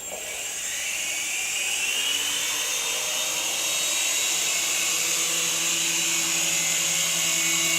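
Small RC helicopter rotor and electric motor spinning up as the throttle is slowly advanced, a close, high-pitched whine that rises steadily in pitch and loudness, with a buzzing blade drone underneath and no talk.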